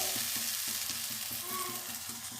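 Garlic-fried masala sizzling in a pan for prawn malaicurry on high heat, with a continuous loud fry hiss and regular rhythmic stirring scrapes throughout.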